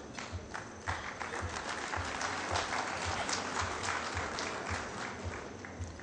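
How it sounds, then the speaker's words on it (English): Audience applause at the COYA 2012 awards event in Nairobi, a sustained round of clapping from a crowd that stays steady and fairly loud for the whole stretch, with no talk over it. "that was a round of applause which was led by the man from Runda"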